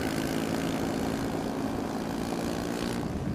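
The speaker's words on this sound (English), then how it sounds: "As the C-130J lands, large clouds of dust are knocked up into the air." A C-130J propeller transport plane landing on a dirt runway, giving a steady, loud, dense engine and propeller roar that stays close and unbroken, with no voices.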